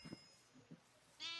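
Blocky game sheep bleating in Minecraft, a few short bleats spaced apart with a brighter cry near the end, fairly quiet and heard alone without talk.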